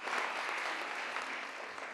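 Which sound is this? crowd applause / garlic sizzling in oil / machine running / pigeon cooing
crowd applause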